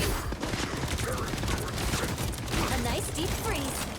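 Dense gunfire and chaotic combat noise from the hero shooter Marvel Rivals, a continuous loud wash of shots and effects with no clear gaps, busy and close throughout.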